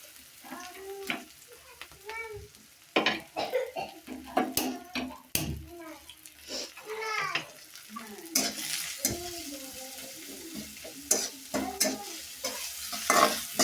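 Chilli paste fries in a pan in a village kitchen. A sizzle rises and falls with bursts of stirring scrapes, and people's voices come and go over it.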